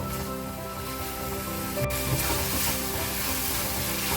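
Spice paste cooking down in oil for a prawn and yogurt curry, a continuous broad hissing sizzle that swells slightly partway through, steady and close with no voices.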